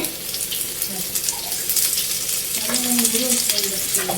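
Hot oil sizzles and crackles steadily in a pan, growing slightly louder midway, with faint clinks and kitchen noise underneath.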